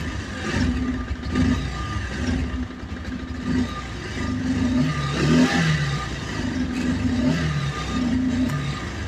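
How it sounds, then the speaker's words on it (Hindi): A Bajaj Pulsar E20 BS6 motorcycle engine misfiring and failing to pick up, its uneven, choking revs rising and sagging in a continuous rough drone with clattering bursts, close by and fairly loud. "मतलब पिकअप पकड़ ही नहीं रही, एकदम दम घुट रहा गाड़ी का।"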